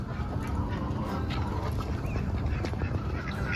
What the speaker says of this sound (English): And what kind of ducks are these? Mostly Ancona.